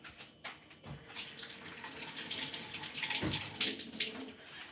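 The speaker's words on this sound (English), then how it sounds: "I'm gonna rinse it off." Tap water runs steadily over food being rinsed in a sink, a continuous close splashing gush that starts after a brief pause and a couple of soft knocks.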